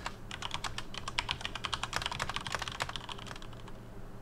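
Rapid computer keyboard typing from the video game Empires of the Undergrowth, a quick steady patter of sharp key clicks, fairly quiet and close, with no voices.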